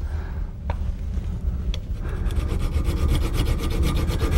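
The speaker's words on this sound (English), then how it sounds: "This is a little bit finer file than the other?" Fine file rubbing across the metal of a British side-by-side shotgun action being tightened, a near, rhythmic rasping of steady back-and-forth strokes that builds after a couple of faint scrapes.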